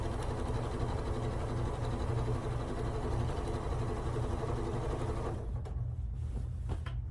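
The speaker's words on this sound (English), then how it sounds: "Just sewing this onto the blue strip there." A sewing machine stitches fabric onto a blue strip for a scrap quilt. It runs as a steady, close mechanical whir with a fast rhythmic chatter and stops briefly near the end.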